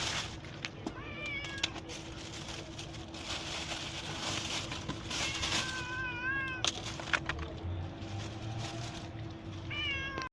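A hungry cat meows repeatedly, several drawn-out, plaintive cries spaced through the clip, fairly close, over a low steady hum.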